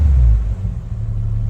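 A 1989 Toyota Supra MK3 with a 7MGTE engine gives a short, loud, deep rumble that eases off into a steadier low engine drone, heard up close.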